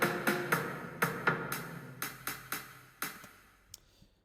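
Notated drum transition played back in Noteflight, a hi-hat rhythm moved onto the low tom, with about a dozen crisp, evenly spaced synthetic hits in a syncopated pattern, each decaying quickly, alone and fairly quiet.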